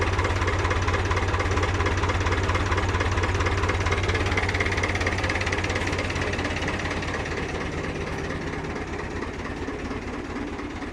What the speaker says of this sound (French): quand il est au ralenti, il fait vraiment pas de bruit ce machin